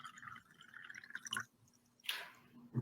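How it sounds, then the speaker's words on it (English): Brandy poured into a glass at a sideboard: a brief, faint liquid splash and trickle, close by, with no voices. "I came down to find General Zaroff pouring herself a glass of brandy by the sideboard."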